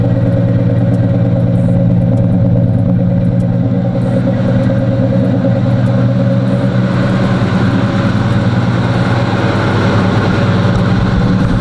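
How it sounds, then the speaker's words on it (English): A loud box-body Chevrolet car engine rumbles steadily with a deep, throaty exhaust drone throughout, close by and without any talking. "My box Chevy is loud and I like it, but it's not fast."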